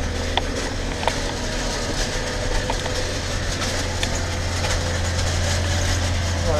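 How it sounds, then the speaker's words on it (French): A vehicle engine runs at about 1750 rpm while moving forward at 7.5 km/h, a dense, steady drone with a low hum that grows slightly louder toward the end, with light rattling on top. "vous avez peut-être entendu l'augmentation des régimes moteurs."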